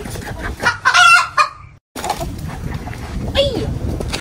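Chickens cluck in a burst of loud, close calls on a village farm in Ukraine, then go quiet for a moment before softer clucking and calls carry on against steady background noise.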